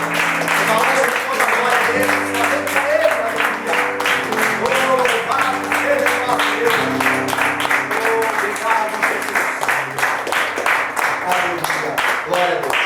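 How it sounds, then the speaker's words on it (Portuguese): A church congregation at an evening worship service claps together for Jesus, a steady dense patter that fills the whole stretch, with voices and sustained musical tones running over it. "Vamos aplaudir Jesus"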